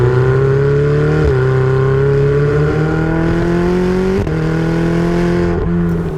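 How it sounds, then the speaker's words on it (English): Ferrari 488 Spider V8 engine revving hard through the gears, a loud, close howl climbing steadily in pitch with brief dips at each shift, unbroken by voices. "It starts with a sort of low growl and it just ends up with that typical Ferrari V8 howl right at the top of the revs."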